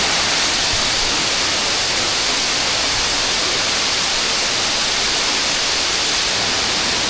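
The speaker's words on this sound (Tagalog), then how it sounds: "Tambal Busay Falls." Tambal Busay Falls in Bulusan, Sorsogon, gives a steady, dense rushing roar of falling water that fills the whole stretch evenly and close by, with no voices.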